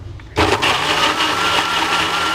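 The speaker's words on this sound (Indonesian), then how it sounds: "kita blender" A blender blending guava waste with a little water whirs to life abruptly after a brief pause and keeps running loud and steady, close by.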